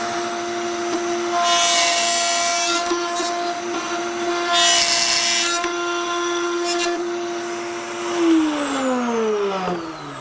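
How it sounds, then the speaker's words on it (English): A router cuts wooden drawer dovetails in a jig with a loud, steady high-pitched whine, broken by repeated bursts of harsher cutting noise, and the motor pitch falls away as it winds down at the end. "cut the dovetails on the other side"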